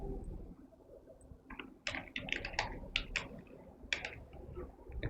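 Someone types an IP address on a computer keyboard. About a dozen light keystrokes land in small irregular clusters over a soft, steady room hum.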